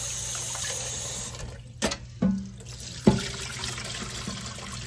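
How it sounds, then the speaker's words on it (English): Water runs steadily from a tap as soaked stew peas are rinsed, with a few splashy knocks and gurgles partway through. "Rinse them off."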